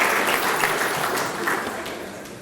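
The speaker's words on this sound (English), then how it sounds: "Give the Silver Fox a round of applause, ladies and gentlemen." Audience applause at a South African professional services awards ceremony, a dense, even roll of clapping from a large room that slowly tapers toward the end.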